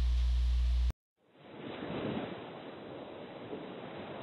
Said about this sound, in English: the waves are getting quite big